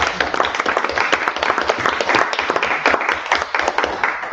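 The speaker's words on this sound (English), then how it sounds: "Let's give Matt a round of applause." Loud, dense audience applause at a school district board meeting for a departing staff member, continuous clapping filling the whole stretch without speech.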